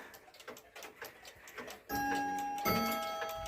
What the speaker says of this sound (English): 2 one-day cuckoo clocks made in the Black Forest in Germany